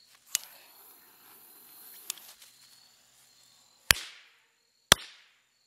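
A fuse hisses, then two sharp, loud firecracker bangs go off about a second apart, each ringing briefly.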